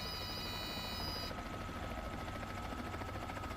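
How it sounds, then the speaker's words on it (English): Helicopter rotor from Microsoft Flight Simulator 2024, a steady, dense whirring drone that fills the short stretch alone, with a high whine dropping away partway through. "that's not a good thing to do with a helicopter"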